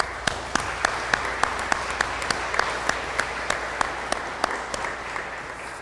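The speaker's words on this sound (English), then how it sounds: "I want to give a gratitude and a round of applause to them" A crowd applauding at an Arkansas Day 2024 event, a steady wash of clapping with a few sharper claps standing out, sustained for several seconds without talk.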